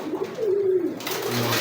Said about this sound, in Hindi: माशाल्लाह बड़ा तगड़ा कबूतर है।